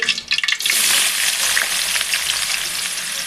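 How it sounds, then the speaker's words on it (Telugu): Chopped onions hit a hot pan and sizzle loudly and steadily in oil with whole spices, a dense continuous frying hiss after a brief clatter at the start. "ఆనియన్స్ని వేసుకోండి కట్ చేసిన ఆనియన్స్ని వేసుకోవాలి"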